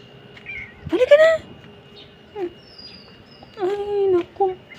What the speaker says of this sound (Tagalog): Ayan, guys, yung aking pusa.